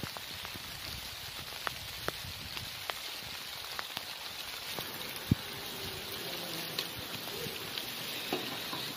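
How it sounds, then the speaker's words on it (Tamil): Heavy rain falls steadily on misty hills at a scenic overlook, a constant broadband hiss with occasional close drip and splash accents throughout, no one speaking. "நல்ல மழை பெய்யுது"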